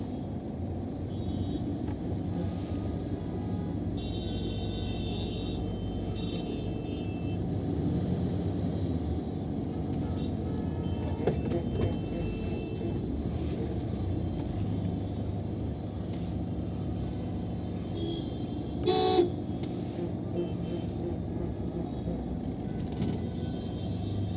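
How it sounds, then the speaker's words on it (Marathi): Heavy road traffic in Mumbai, a dense steady rumble of engines close by, with a few brief horn blasts cutting through near the middle and again toward the end; no talking. "भयंकर ट्रॅफिक आहे मुंबईमध्ये"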